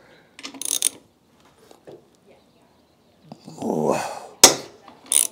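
A ratchet wrench loosens the 17 mm top shock nut on a Honda CBR/VFR 800 motorcycle, giving several close, quick bursts of metallic clicking separated by pauses and light handling noises.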